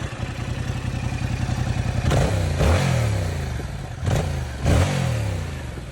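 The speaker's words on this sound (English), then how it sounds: "Our next bike will be the Yamaha R7, a parallel twin sport bike based off of the MT-07's engine." A Yamaha R7 sport bike's parallel twin engine, shared with the MT-07, idles with a low putter, then blips sharply four times in quick throttle revs, loud and close, with no talking.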